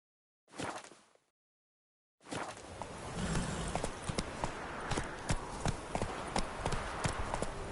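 In The Witcher 3 video game, the horse Roach clip-clops along at a steady walking rhythm, hooves landing in crisp regular beats after a short burst of sound and a pause.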